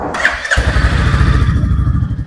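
A 2023 Royal Enfield Bullet 350 engine cranks and catches, settling quickly into a loud, steady, rumbling idle close by.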